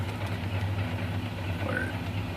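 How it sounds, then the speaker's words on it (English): A 1953 DeSoto Firedome engine idling steadily at close range, a low, even mechanical hum with no talking. "I'll turn this radio off so you can hear the engine."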